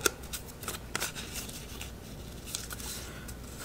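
Scissors snip through paper with soft crisp cuts and rustling, close and fairly quiet, a few sharper clicks early on and steady papery friction after.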